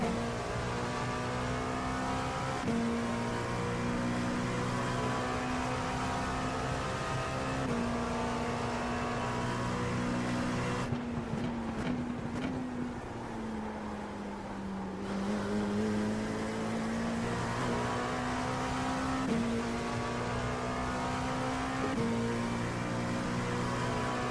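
An LMP2 prototype race car engine in the iRacing simulator at Sebring, a steady, droning in-car engine note that shifts pitch through gear changes and a slower section midway, heard alone without talk.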